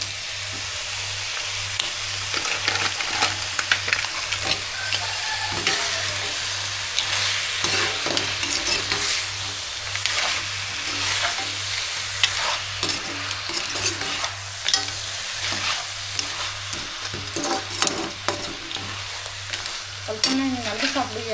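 Crab pieces frying in a pan with ginger-garlic paste for crab gravy, a continuous sizzle with repeated stirring scrapes and clatters against the pan, no voices.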